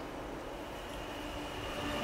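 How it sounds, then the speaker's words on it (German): Steady rolling rumble of trains running on a busy, overloaded rail line in Transport Fever 2, a continuous mid-level drone with a faint high tone above it and no voices. "Also, es sind deutlich zu viele Züge hier."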